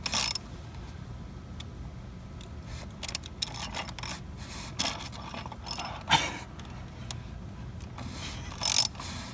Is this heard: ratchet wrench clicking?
yes